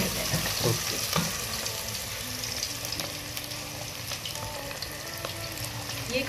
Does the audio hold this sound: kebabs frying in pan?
yes